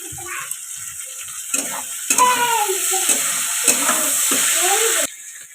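Cabbage tossed into a hot pan and stir-fried with salt and vegetables for a homemade pasta dish, a steady close sizzle with intermittent stirring scrapes and clatter, cutting off near the end.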